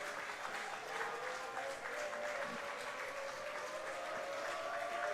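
Baseball crowd at an IBL playoff finals game in London clapping along steadily and fairly close, a dense continuous wash of applause with a faint hum beneath and no talk.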